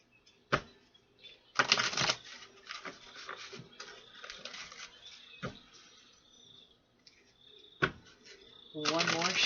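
A deck of tarot cards being shuffled by hand during a pick-a-card reading, with bursts of riffling and flicking card noise that come and go, and short sharp slaps between them.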